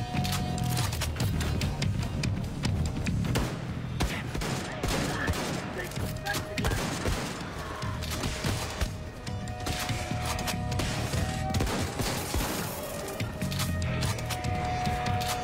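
Shotgun fire in the video game Wolfenstein comes as dense, repeated loud blasts mixed with other weapon and game effects, and a voice talks at moments underneath.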